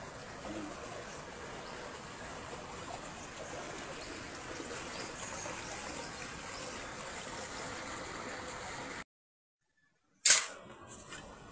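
Water runs steadily at a backyard compost spot in the Philippines, a soft, even gushing wash heard for most of the stretch before cutting to silence, followed by a brief sharp click-like burst.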